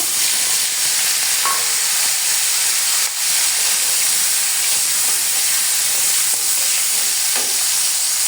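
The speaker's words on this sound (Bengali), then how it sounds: "কড়াইয়ে তেল দিয়ে দিয়েছি, আগে আমি মাছটাকে ভেজে নেব।" Steady, loud frying sizzle of fish in oil in a wok, constant hiss filling the whole stretch, a few faint clinks breaking through, no voices.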